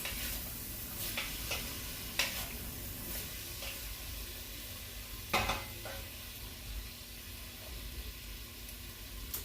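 Jambalaya pasta mixture with sliced onion sizzles steadily in a pan while being stirred, with a few sharp scraping knocks of the utensil against the pan standing out from the continuous frying hiss.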